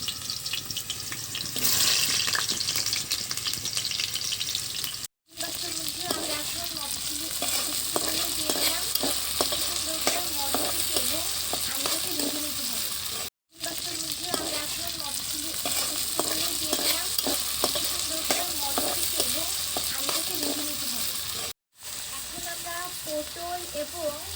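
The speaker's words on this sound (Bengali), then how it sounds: "কড়াটাকে গরম করে পরিমাণ মতো তেল দিয়ে এখন আমরা আলুটাকে ভেজে নিচ্ছি" Potatoes frying in hot oil in a wok, a steady loud sizzle with repeated stirring scrapes throughout, broken by three brief silent cuts.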